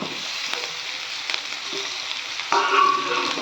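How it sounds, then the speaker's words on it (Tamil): Tomatoes go into hot onions in a pan for paneer butter masala, a steady frying sizzle with a few stirring clicks that jumps to a brighter, louder hiss as they hit the oil. "நம்ம இப்போ இதில் வந்து நம்ம தக்காளி ஆட் பண்ணிக்கலாம்"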